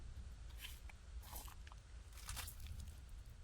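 A chewing and crunching sound effect with a few wet, crisp bites in quick succession over a faint background hiss, alone and fairly quiet.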